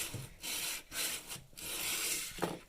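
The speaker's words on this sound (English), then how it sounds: "I decided to get a sanding block here to make this nice and even" A sanding block with sandpaper rubbed back and forth along a warped wooden baseboard, several close rasping strokes with short pauses between them.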